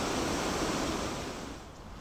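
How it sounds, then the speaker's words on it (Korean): Jiktang waterfall on the Hantan River, a low but broad cascade about 3 m high and 80 m wide, gives a steady, close, dense roar of rushing water that stays constant with no voices over it. "높이는 약 3m에 불과하지만 너비는 약 80여 미터에 이르는 한국의 나이아가라라고 불리는 직탕폭포"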